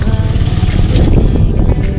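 A motorcycle is ridden on a rainy Sunday in Dimapur, Nagaland: a loud, close, steady engine drone with road and wind rumble throughout.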